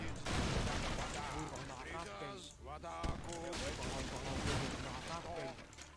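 Heavy cannon fire in Age of Empires III during a Russian team battle, with repeated booming shots layered over dense, continuous battle noise and voice-like sounds throughout.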